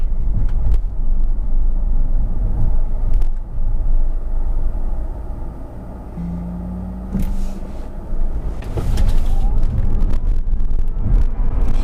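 A Tesla Model S electric car with 534 horsepower and all-wheel drive accelerates hard, heard as a loud, steady low road rumble with heavy wind buffeting throughout and no speech.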